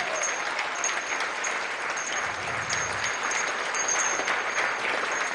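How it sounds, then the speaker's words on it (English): Steady applause from an audience at a charity gathering honouring a golf tournament sponsor, a continuous broadband patter holding at an even, moderate level throughout without voices. "Big round of applause for their contribution."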